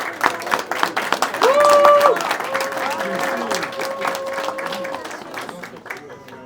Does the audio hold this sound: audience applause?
yes